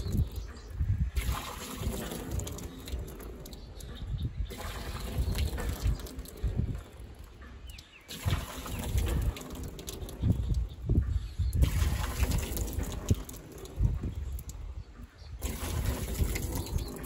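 Water trickles from a windmill pump as the rod strokes up and down, a steady low splashing and dribbling with gusting wind around it, close by and fairly constant throughout.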